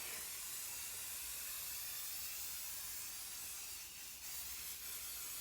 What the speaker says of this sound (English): just start to kind of spray this down onto the back